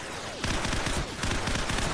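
Rapid bursts of automatic gunfire crackle in Call of Duty 4: Modern Warfare as enemy troops open fire, a dense fusillade of overlapping shots that starts abruptly and keeps going, with no voices over it.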